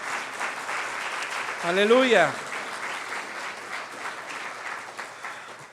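Church congregation applauding during a Spanish-language sermon, a steady wash of clapping running under a preacher's voice and an exclaimed response.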